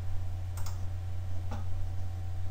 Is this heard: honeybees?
no